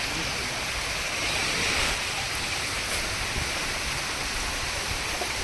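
Dense, even hiss of steady rain pouring down on a mango orchard, a constant wash of noise with no breaks.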